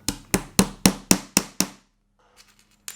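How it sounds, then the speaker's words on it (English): A hammer drives nails partway into wooden boards for a piggy bank project: seven quick, evenly spaced strikes ring out close and loud, then stop, followed by faint small handling noises. "Once we have our lines made, we can start pre-nailing our nails."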